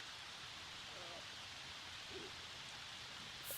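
Steady rain falls in The Sims 4, a dense even hiss with no break, while a voice talks faintly underneath.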